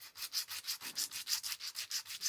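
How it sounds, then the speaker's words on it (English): Timber pocket-knife sides are sanded by hand, each rasping stroke following the last in a steady back-and-forth rhythm, close and clear with nothing else heard. "There's a bit of hand sanding to do."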